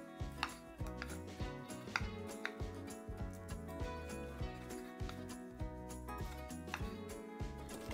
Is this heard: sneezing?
no